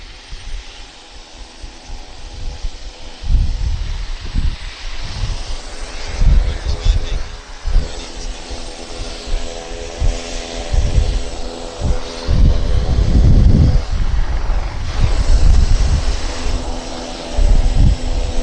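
Propeller aircraft engines run up at Vancouver Airport, droning loudly with surges and pulsing swells over gusty wind noise through the whole stretch.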